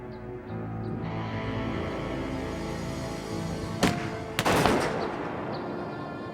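A single gunshot cracks out over a steady background hum, with a second sharp report right after, the sharp burst followed by a short echoing tail.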